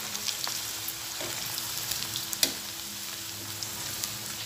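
Potatoes fry in plenty of oil in a pan, a steady crackling sizzle with scattered sharp pops and the occasional stir, close and moderately loud with no talk.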